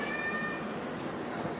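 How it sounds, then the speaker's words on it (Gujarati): A domestic cat meows indoors in a home, a soft, fairly faint call over a steady background hiss. "તો ઓલી બિલાડી દૂધ પીવા માંડી."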